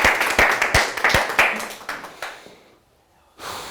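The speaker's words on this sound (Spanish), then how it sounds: "Un aplauso para el Señor." A congregation at a church service gives a short burst of applause, distinct sharp claps close by that quickly thin out and fade to near silence before a voice picks up again.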